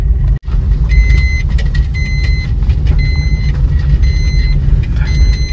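A car on the road, heard from inside the cabin: a steady low rumble of engine and tyre noise runs throughout, with a single sharp click near the start and no talking.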